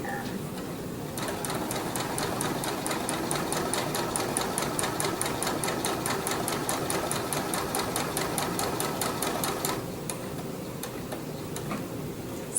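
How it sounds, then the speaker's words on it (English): A sewing machine blanket-stitching quilt binding runs in a fast, even ticking rhythm for about eight seconds, then slows and stops, close and clear. "And then I'll go ahead and stitch"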